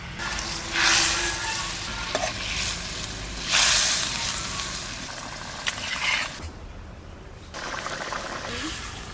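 Fish frying in a spiced curry for a village-style fish curry gives a continuous close sizzle with bursts of louder crackling and spattering and faint stirring scrapes throughout, with no talking.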